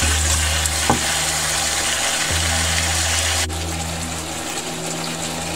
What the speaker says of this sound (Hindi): इसमें आपके मसाले भी भुन जाएंगे।